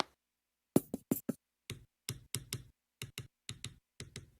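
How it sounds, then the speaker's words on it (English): A typewriter-like clicking sound within a music track taps out crisp, isolated clicks in quick clusters of two and three, separated by short silences, up close and dry. "Sounds like a typewriter almost."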